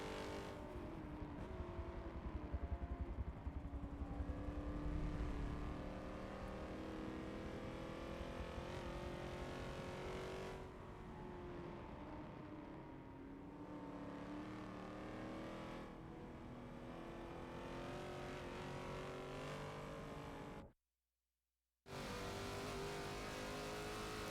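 B-class cars racing at Road Atlanta in a Forza video game race, engines droning and revving continuously with shifting pitch as cars accelerate and pass, moderately loud, cut by a brief dropout near the end.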